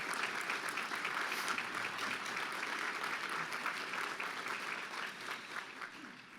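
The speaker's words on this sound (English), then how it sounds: "Let's give them a big round of applause." Audience at a business club luncheon gives a sustained round of applause, steady dense clapping filling the room throughout and fading slightly at the end.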